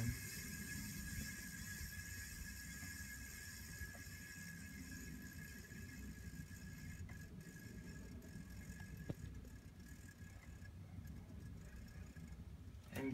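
A Rasonic window air conditioner's fan winds down in a dining room, a continuous soft whirring hum with faint ticks that stays fairly steady and quiet for the whole stretch.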